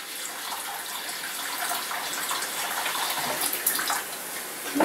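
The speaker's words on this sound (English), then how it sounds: "Just washing up a plate, I should say," Water runs steadily from a tap while a plate is washed up under it, a close, continuous rushing with faint clinks near the end.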